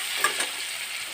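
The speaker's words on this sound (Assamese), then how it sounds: "এতিয়া বিলাহীখিনি গলি যোৱালৈকে ভাজি থাকিম" Tomatoes and spices fry in a pan, with a brief close sizzle and a couple of light stirring clinks.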